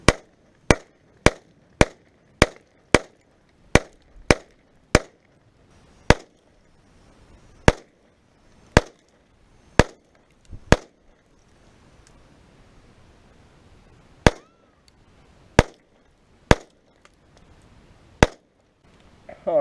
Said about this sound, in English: I was really just attempting to shoot as accurately and as quickly as possible from distance